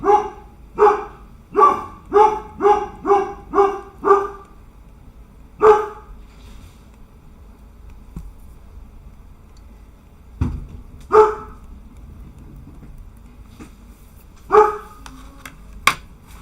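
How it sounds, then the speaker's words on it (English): Dogs barking indoors, a rapid run of about seven loud barks at the start followed by scattered single barks with quiet gaps, close by and with no talk. "Doggies in the house."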